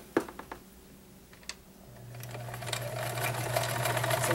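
A vintage 1941 Kenmore convertible free-arm sewing machine starts up after a few soft clicks and settles into a steady, smooth running hum that grows louder and holds close and alone.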